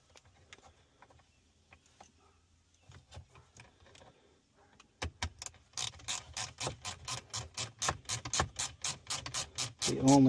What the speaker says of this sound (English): Now we go ahead, put our screw back in here.